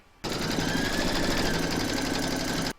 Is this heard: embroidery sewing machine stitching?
yes